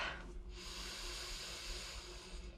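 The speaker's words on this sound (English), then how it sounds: "Now, take a deep breath." One long, deep breath is drawn and released during a core strength workout, a soft airy hiss close to the mic, faint and alone with no talking.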